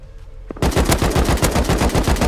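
Automatic gunfire in the survival video game Rust: after a short quiet moment, a loud, rapid, continuous burst of shots rattles for nearly two seconds with no talk over it.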